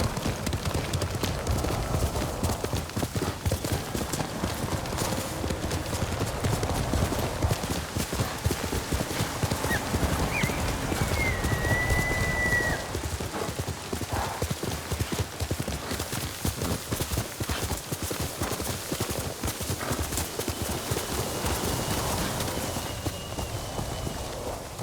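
Steady clip-clopping of horse hooves in Ghost of Tsushima, a continuous galloping rhythm at close range with an occasional whinny and faint ambient wind underneath.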